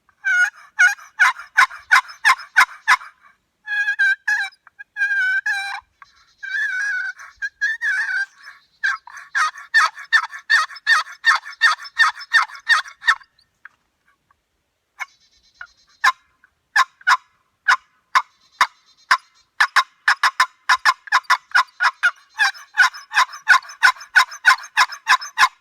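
Turkey box call, chalked, worked by hand to imitate gobbles: loud, rapid rattling yelp bursts in repeated runs with brief pauses, close and alone.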